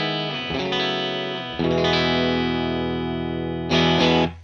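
Electric guitar in a clean tone played through a pedalboard that starts with a Greer Amps Fish Press compressor: a few sustained chords ring out one after another, each struck and held, close and loud with no one talking.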